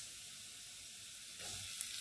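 Onions frying in a pan while cooking vegetables, a continuous close sizzle that swells a little louder partway through, with no voices.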